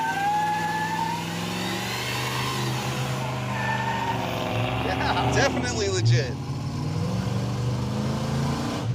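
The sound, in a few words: Ford Ranchero engine running while driving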